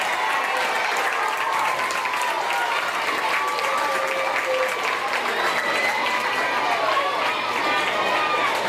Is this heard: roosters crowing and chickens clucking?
no